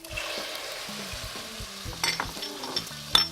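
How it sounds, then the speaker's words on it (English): Ackee and tomatoes hit a pan of garlic and onion with a close, continuous sizzle, light clinks and spoon taps near the end, no talk. "We're gonna toss in the Ackee"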